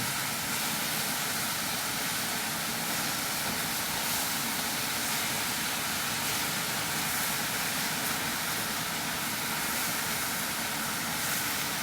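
Beef and broccoli stir-fry in a wok with oyster sauce over high heat, giving a loud, continuous high sizzle that hisses steadily with no pause throughout.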